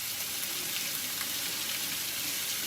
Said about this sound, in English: So we just throw that in a pan on medium heat, and we're gonna cook it off.